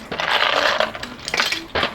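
Small hard plastic Commodore 64 keycaps clatter and tumble into a bag in several bright, close bursts of clicking and rattling, with short pauses between handfuls.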